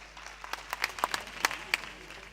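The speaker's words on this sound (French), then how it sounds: "Applaudissements." Audience applause after a contestant's scores are announced at a televised singing competition, a thin patter of scattered claps building slightly, fairly faint and without talk over it.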